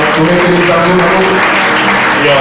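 Church congregation at a worship service applauding and cheering together, a loud, continuous wash of clapping with voices mixed in throughout.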